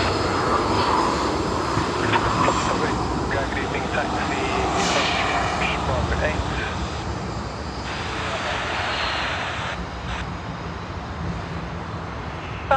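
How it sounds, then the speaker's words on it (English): Fixed-wing aircraft arriving at Sydney Airport, a steady broad engine roar that swells and holds throughout, with a voice talking over it. "get a good look of aircraft coming in"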